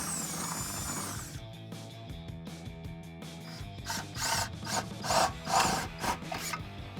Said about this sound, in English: we're going to use a drill with a 3/8 drill bit to drill through the 4 holes that are in the bottom of the lockbox